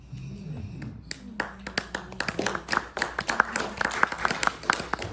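A small audience claps after a poetry reading, starting as a few scattered nearby claps that thicken into steady, moderately loud applause, with a low murmur of voices underneath at the start.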